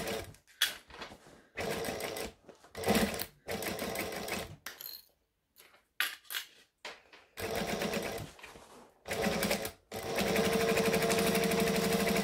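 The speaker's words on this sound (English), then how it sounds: "You also notice I'm sewing with the bottom face up" A sewing machine stitches a fabric bag in loud rapid bursts, stopping and starting repeatedly before running in a longer steady whir, close and clear.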